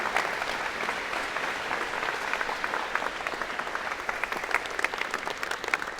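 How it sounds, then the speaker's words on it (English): A crowd applauds at a college of engineering and computer science convocation, dense steady clapping from many hands that holds at an even level throughout, with no voices standing out. "One more round of applause."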